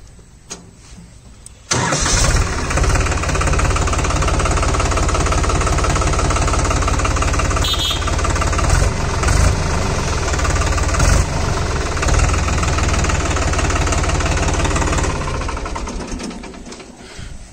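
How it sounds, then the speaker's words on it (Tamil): New Holland 3600 Heritage Edition tractor engine cranking and catching after a quiet moment, then settling into a loud, even, clattering diesel idle heard close up for the rest of the span. "இந்த இன்ஜினை வந்து ஸ்டார்ட் பண்ணுறேங்க."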